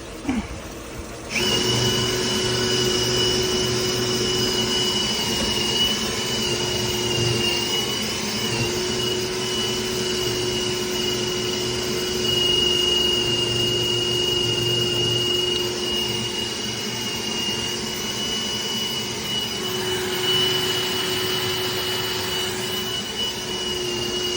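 Drain cleaning machine running on a leaking, backed-up kitchen sink drain, a loud continuous motor whine and hum that starts abruptly and holds steady throughout, with no talk.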